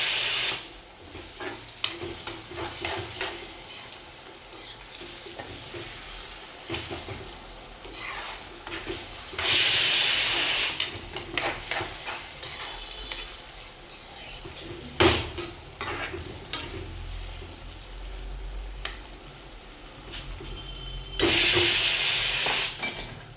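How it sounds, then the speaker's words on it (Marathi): Prawn curry sautéed and stirred in a pan, spatula scraping and clattering against metal over a steady sizzle, with louder bursts of stirring and clinking at intervals; no voices. "5 मिनिट मंद आचेवर परतवायची आणि त्यानंतर 2-3 मिनिटं मोठ्या गॅसवर परतवायची आहे."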